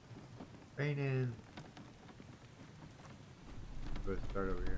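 Rain falling in a survival game, a steady patter that swells near the end, with a brief voice and a sung tone mixed over it.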